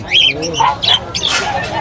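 Opaline parakeets at a pet market squawk in sharp, rapid chirps and screeches, close and loud over a busy background, while someone talks over them.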